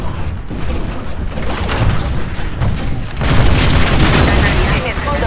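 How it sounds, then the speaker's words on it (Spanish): A deployed turret fires steadily at enemies during a Titanfall match in Angel City, giving a dense, loud stream of booming shots that intensifies midway through, with game voice announcements heard over it. "Tu torreta está bien colocada. Está acabando con los de IMC."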